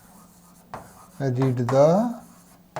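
Marker or chalk strokes on a classroom board during a data structures lecture, a few brief scratchy touches heard around a teacher's speech.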